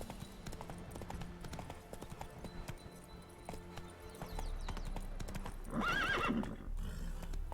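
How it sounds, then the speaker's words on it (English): Horse hooves clip-clop in the Witcher 3 video game, a rhythmic stream of close hoofbeats that grows heavier midway and ends with a loud neigh. "Whoa there, Roach."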